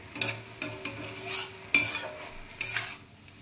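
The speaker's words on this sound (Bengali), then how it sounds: "একটু খুন্তি দিয়ে নেড়ে দিলাম, মিলিয়ে দিলাম।" A metal spatula stirs boiled leafy greens in a pan as the water cooks off, giving a few separate scraping, clinking strokes with soft sizzling underneath. The sound is close and moderately quiet, and no one speaks.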